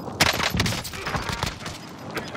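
Gunfire in the video game Warzone, a loud close burst of several rapid shots over busy game noise, lasting a couple of seconds.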